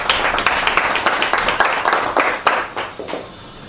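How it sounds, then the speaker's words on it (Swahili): An audience at a political speech claps in a quick, uneven patter of many hands, fairly close and loud, fading out toward the end. "Piga makofi kwa ajili hiyo."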